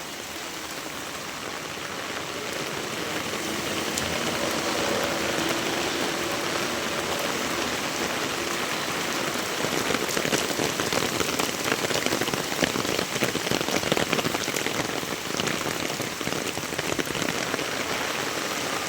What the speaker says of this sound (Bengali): বৃষ্টির এত স্পিড এত জোরে বৃষ্টি হচ্ছে